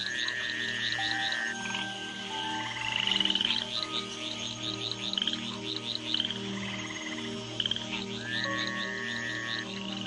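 Tree frogs croaking in a communal chorus after rain, overlapping rhythmic trills and piping calls layered over steady lower droning notes, continuous and fairly close.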